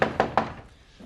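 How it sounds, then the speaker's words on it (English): Three quick, close knocks rap on a wooden door in a British TV soap scene, evenly spaced, then fading into quiet room tone. "We're knocking!"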